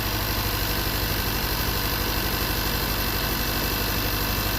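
A 2016 Kia Soul with a 2.0-litre engine, suffering a no-power fault, idles steadily up close with a loud, even low rumble and rhythmic pulsing; no start is audible.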